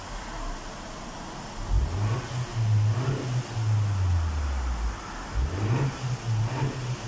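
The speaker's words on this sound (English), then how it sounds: "now it's good. The car is starting." A 2019 Honda Accord with low fuel rail pressure cranks and catches, its engine rising into a steady idle with brief revs and dips, close and fairly loud, with no talking.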